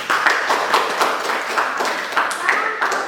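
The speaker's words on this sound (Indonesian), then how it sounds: "terima kasih tepuk tangan yang meriah buat kelompok 1 tadi" Applause for a student group in a classroom: a steady patter of many hands clapping throughout, with small swells, fairly close and filling the space.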